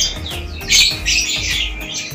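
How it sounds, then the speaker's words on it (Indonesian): A caged bird kept for breeding lets out loud, harsh squawks close by. There is one strong burst, then a longer rasping call over steady low background hum, with no voices. "Dan ini burung yang memang sengaja saya mau ternak dulu."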